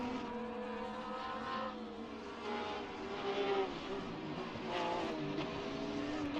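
Porsche race cars lapping Imola in Assetto Corsa, several engines droning at once with pitch rising and falling through gear changes, heard at moderate distance as a steady layered whine without talk.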